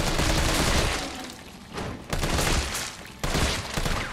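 Rapid gunfire from the Resident Evil 3 video game on PC, with dense bursts of shots and booming impacts in several loud waves over a noisy game mix, no talking.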